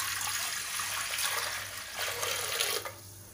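Measured water, five and a half cups, poured into a cooking pot in a home kitchen, a steady close splashing rush that cuts off near the end.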